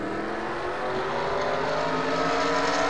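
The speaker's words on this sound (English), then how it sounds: "And the cars are rolling." Steady engine roar of several NASCAR Nationwide Series race cars in a video game at Fontana building as they get moving, a continuous loud drone with no talk over it.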